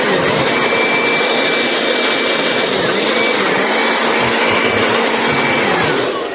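A battery-powered electric blower runs steadily at full power, a loud continuous rushing whine with a thin high tone, nothing else heard.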